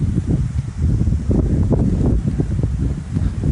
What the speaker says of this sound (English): Welcome the wind, which I'm sure you all know is one of our most annoying things.